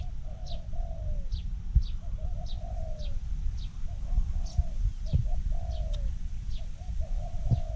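Spotted doves cooing in a steady series of soft, rounded calls repeated every second or so, with smaller birds chirping higher up and a low rumbling background throughout.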